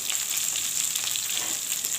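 Ridge gourd with poppy seed sizzles steadily in a pan while being stirred, a dense, even frying hiss held close and loud throughout, with no voices.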